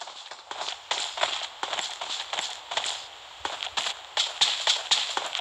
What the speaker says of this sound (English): I heard some footsteps somewhere.